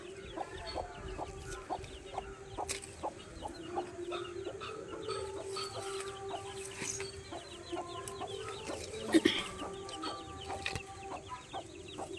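Chickens cluck in a rhythmic series of short, repeated calls, fairly close but soft, over a quiet outdoor background with a few brief louder clucks near the end and no speech.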